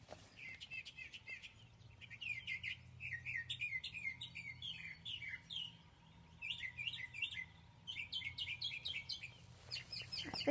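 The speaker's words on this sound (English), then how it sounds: "I think that mama bird is giving her baby bird a lecture about her baby bird's nest." Several small birds chirp and tweet in rapid bursts of high, quick notes, moderately close, repeating in clusters with short pauses over a faint low hum.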